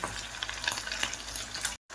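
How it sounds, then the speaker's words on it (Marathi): A masala-coated piece of fish sizzles and crackles in plenty of very hot oil, a busy close-up frying hiss with a brief dropout near the end. "मी माशाचा दुसरा तुकडा टाकलाय तळायला"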